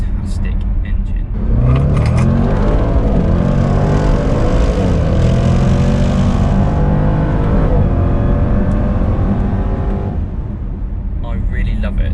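A supercharged engine in a Jaguar F-Pace SVR SUV revs loudly and steadily for about ten seconds, with rising and falling pitch as it builds and holds, starting after a brief quiet lead-in and fading out at the end.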